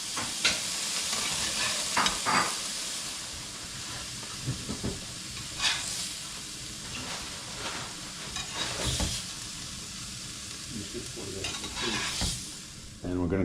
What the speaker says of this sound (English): sear up our pineapple rings